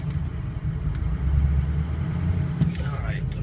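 A 2004 Ford F250 Lariat 4x4 diesel idles with a low, steady rumble as it is shifted into reverse, a brief clunk near the end, under a voice.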